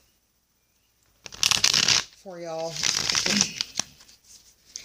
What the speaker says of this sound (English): let me go ahead and grab my cards and give some shuffles